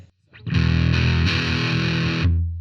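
An electric guitar played through a DOD American Metal distortion pedal rings out in a single loud, sustained, grungy chord that holds for about two seconds before cutting off.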